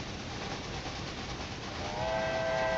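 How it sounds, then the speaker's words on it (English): A cargo train running in the railway video game Railway Empire 2 gives a steady rumbling roll, and a tonal whistle or horn rises near the end, with no voices. "That cargo train still flying on water?"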